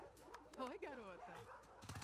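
A dog in The Last of Us Part II game whimpers and yips softly. Short whiny, pitch-bending cries come close together, faint under the surrounding game sound.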